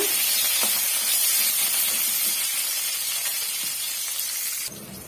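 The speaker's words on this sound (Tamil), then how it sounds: "சேர்த்துட்டு மிதமான தீயில் வச்சு இதை வறுத்து விட்டுக்கலாங்க" Green chillies sauté in hot oil on a medium flame for mint pulao, giving a steady, loud, close sizzling hiss that carries on throughout and drops slightly near the end.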